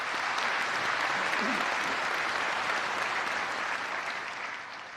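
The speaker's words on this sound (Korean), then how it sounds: "여러분 박수 부탁드리겠습니다" An audience claps steadily at a national commemoration ceremony for the March 1st Independence Movement anniversary, a dense wash of applause that holds for several seconds and then begins to fade.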